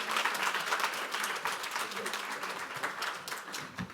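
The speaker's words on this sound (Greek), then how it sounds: "Ας τον υποδεχθούμε με ένα ζεστό χειροκρότημα." A room full of people at an ICF Greece coaching event gives warm applause to welcome a speaker, dense clapping throughout with a light murmur mixed in.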